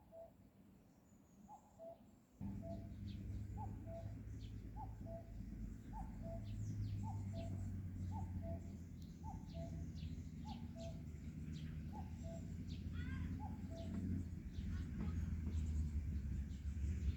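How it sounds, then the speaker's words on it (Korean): Cuckoo calling repeatedly in a steady two-note rhythm from a distance at a rural middle-school campus, with other wild birds chirping faintly over a low rumbling background. "산새들 들새들 뻐꾸기 소리가 아름답게"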